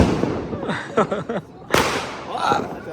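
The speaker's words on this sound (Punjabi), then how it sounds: "ਬਿਜਲੀ ਬੰਬ ਚਲਾ ਰਹੇ" Bijli bomb firecrackers set off during Diwali and Bandi Chhorh Divas celebrations crack in several sharp, loud bangs close by, while people talk between the blasts.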